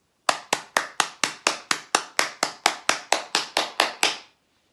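Two hands clap sixteen times in an even, brisk rhythm, each sharp crack close and clear, with nothing else audible.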